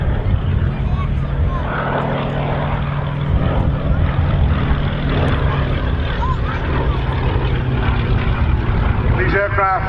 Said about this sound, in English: this is the only aircraft flying in the world, the only Swordfish in the world right now